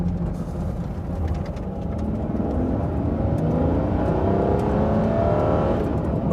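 An Aston Martin One-77 sports car engine revs steadily while driving on automatic, holding a long gear with a rising, continuous drone close to the microphone.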